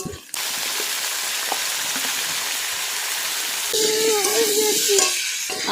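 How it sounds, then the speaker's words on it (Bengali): New potatoes fry in a hot wok with a bright, continuous sizzle, punctuated by stirring clatter that swells louder near the end; a voice speaks briefly. "আগে আলুগুলো ভেজে নিই, নতুন আলু, বেশিক্ষণ লাগবে না"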